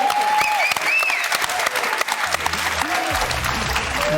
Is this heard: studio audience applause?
yes